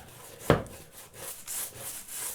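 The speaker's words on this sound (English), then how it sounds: "Scraping, just brushing it off." A narrow-bristle brush scrubs leftover caulk from a bathroom tub or shower seam, giving a sharp scraping hit followed by repeated soft rubbing strokes, close and moderately quiet; no talking.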